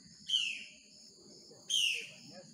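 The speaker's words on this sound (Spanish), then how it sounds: "Se escucha un pájaro por allí." Two loud, high-pitched bird calls ring out about a second apart, each a bright descending cry over a low rumble of distant forest ambience in the Ecuadorian Amazon jungle.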